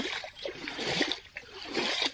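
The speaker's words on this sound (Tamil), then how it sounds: "தண்ணி பாய்ச்சிக்கிட்டு இருக்கோம்." Irrigation water flows into a farm field of elephant foot yam, a soft continuous splashing and trickling heard close by.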